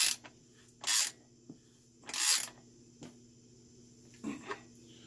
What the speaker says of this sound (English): and tighten up your front axle